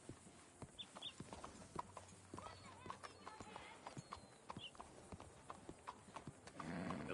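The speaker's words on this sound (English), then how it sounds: "Horse!" Horse hooves clip-clopping in Red Dead Redemption 2, a steady run of sharp hoof beats at a walking rhythm, fairly close, with a faint whinny and some background game sounds.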